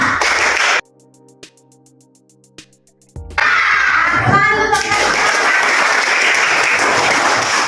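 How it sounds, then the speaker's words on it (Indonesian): Schoolchildren in a classroom perform a PPK clapping chant: loud rhythmic group claps and chanting, a brief hushed pause with a few isolated claps, then a burst of loud sustained clapping and cheering from the whole class. "seperti biasa melakukan tepuk dulu untuk PPK"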